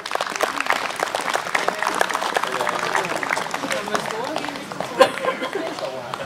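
Audience applause at an outdoor Swedish folk fiddlers' gathering in Torsås, steady dense clapping mixed with crowd chatter and a voice or two over it, one sharper accent near the end.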